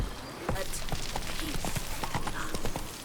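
Hooves of Roach, a horse in The Witcher 3, clattering in a quick steady galloping rhythm of sharp, fairly close hoofbeats, with faint background ambience and no voices.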